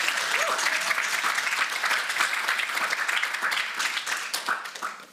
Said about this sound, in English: please can we have a warm applause for this as being a first